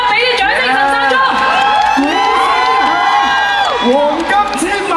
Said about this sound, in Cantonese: 大家俾啲掌聲陳山聰